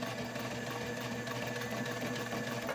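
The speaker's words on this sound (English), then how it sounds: "And I'm coming back up to my turning hole stitching." A sewing machine stitches a wallet seam, running steadily for the whole stretch with an even, continuous mechanical whir close by, no pauses or talk.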